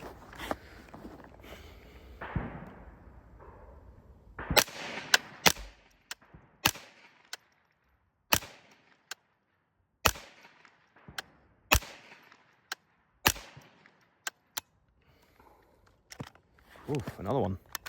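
An L119A22 rifle fires single rounds at a range: about a dozen sharp, separate cracks at irregular intervals, with talking between some of the shots.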